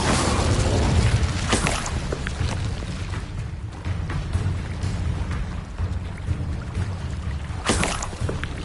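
The Incendio fire spell from a Harry Potter video game bursts out as a loud, continuous roaring whoosh of flame with crackling surges, flaring again near the end, with no talking.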